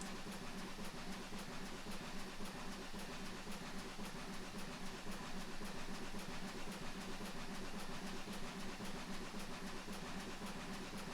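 Steam locomotive Ravingham Hall working hard up a gradient on the West Somerset Railway, a steady continuous rumble with faint rhythmic chuffing, unbroken and without voices for the whole stretch.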